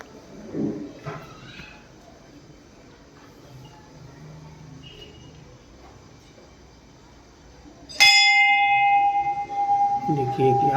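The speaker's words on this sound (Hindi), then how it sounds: "घंटा का आवाज़ सुन के जो है कि मन को बड़ी शांति मिलती है" A single metal bell at a temple is struck once near the end and rings on with a sustained, bright, slowly decaying tone after a stretch of quiet ambient room noise.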